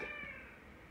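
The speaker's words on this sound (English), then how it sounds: "Cats make great pets too." A cat lets out one short, faint meow near the mic, with a harmonic tone at the start fading into a quiet, noisy background; no one speaks.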